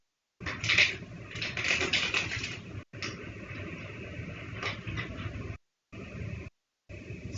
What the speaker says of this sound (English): the tripod's shaking a little bit as I shuffle on the table